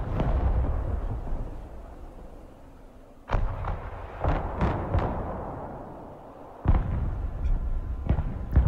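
Mobile artillery in the Broken Arrow war game fires heavy booming shots, roughly half a dozen sharp blasts in two clusters, loud and close, each decaying into a low rumble with no talking.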